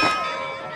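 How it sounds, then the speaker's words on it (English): A metal bell rings out once after being struck by gunfire, a bright sustained clang that decays slowly over a short moment. "I want to see you make that bell ring."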